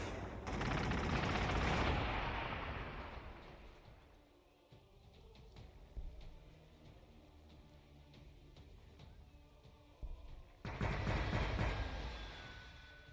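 Gunfire from the strategy game Warhammer 40,000: Gladius, as Adeptus Sororitas forces face a Chaos invasion, comes as a dense rattling fusillade. It fades into quieter scattered shots, then surges back into heavy sustained fire.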